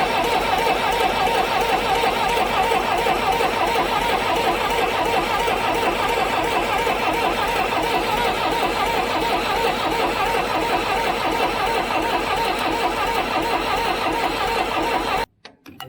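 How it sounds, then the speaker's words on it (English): An abandoned crane's diesel engine cranks over continuously without starting, a loud, close, rapid rhythmic churning that runs for about fifteen seconds and then cuts off abruptly. "Let's see if we can spin her over till we get some diesel flowing out of those"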